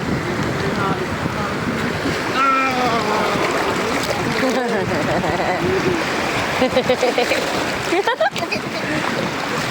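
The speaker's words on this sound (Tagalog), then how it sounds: "Nakakadala yung alon." Waves wash and slap around a boat on a birthday outing, with constant rushing water and wind noise close by. People talk over it now and then.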